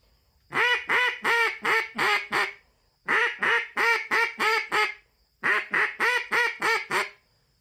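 A duck call blown in three bursts of rapid quacks, each run of five or six loud, close nasal notes separated by short pauses.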